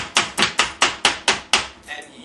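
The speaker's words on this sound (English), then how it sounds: "You chop that right here. You chop it like this" Seven sharp, rhythmic chopping strikes in quick succession from a food chopper cutting onions, loud and close, followed by a brief clatter.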